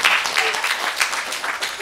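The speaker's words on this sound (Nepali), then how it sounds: "जोरदार ताली" Loud, dense applause from an audience at a live Nepali dohori song show, a continuous wash of many hands clapping close by, with faint voices mixed in.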